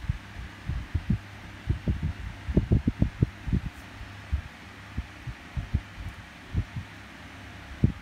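An electric fan runs close by with a low steady hum, overlaid by irregular soft thumping pulses like a wobbling blade or motor throb.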